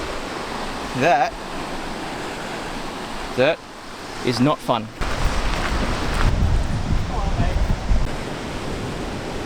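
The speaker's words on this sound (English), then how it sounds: "So the waves are pretty noisy" Constant roar of sea waves washing into a bay near Penzance, broadband and steady, with a few short spoken remarks and exclamations over it, the surf swelling louder later.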